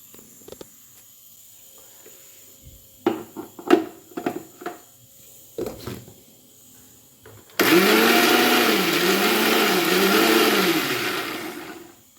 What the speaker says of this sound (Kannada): ಸೊ ಬನ್ನಿ ಇವಾಗ ರುಬ್ಕೊಳ್ಳೋಣ